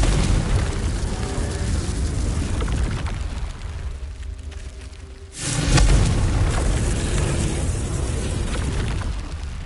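Confringo blasting spell in Hogwarts Legacy on PS5, a loud booming burst that swells after a brief lull, layered over dense continuous game effects and music, with a voice calling the spell.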